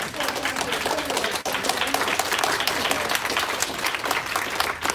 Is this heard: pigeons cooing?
no